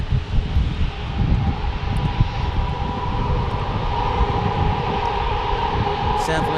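A Southwest Airlines plane at San Diego airport gives off a loud, steady engine roar with a rising whine, close by, while a voice talks intermittently over it.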